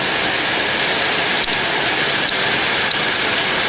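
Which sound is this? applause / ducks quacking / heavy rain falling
heavy rain falling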